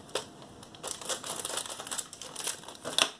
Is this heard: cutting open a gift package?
yes